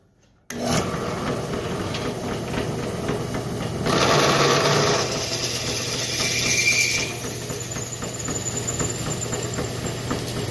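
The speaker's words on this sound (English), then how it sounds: "when he match drills this to the spar, he'll make sure that the bolts are in place so that it's perfectly positioned" A drill opens pre-drilled 3/16 holes in an aircraft wing spar during ST-L wing construction, running steadily and close with a louder, higher-pitched stretch midway as the bit cuts through metal.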